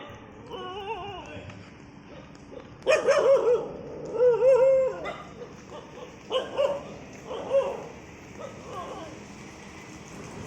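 Dogs barking in a street setting, several loud bursts of sharp barks and yips between quieter stretches, some close and some farther off, over a low background rumble.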